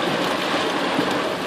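Heavy rain pours down hard on the Siksika Nation, a loud, dense, unbroken roar of falling water with no voices.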